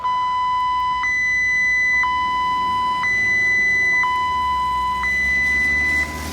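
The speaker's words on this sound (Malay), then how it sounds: "Flammable gas alarm." A flammable gas alarm at a solar farm construction site beeps in a steady two-tone pattern, alternating a lower and higher electronic tone about once per second, loud and continuous with faint background noise.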